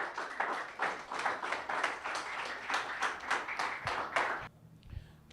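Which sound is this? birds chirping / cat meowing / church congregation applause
church congregation applause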